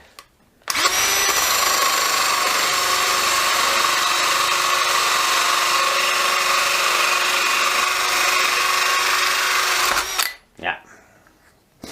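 A cordless drill, a Milwaukee M18BPD or Dewalt DCD776, whines at high speed through a workpiece for about nine seconds, loud and close and steady, then cuts off abruptly.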